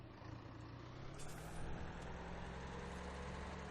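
A tractor in the Farming Simulator 17 video game idles with a steady low engine rumble and broad hiss, holding constant and fairly quiet throughout, without speech.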